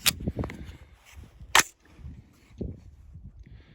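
An AR-15 rifle fires a few sharp, close shots at uneven intervals, each a brief loud crack followed by quiet outdoor background.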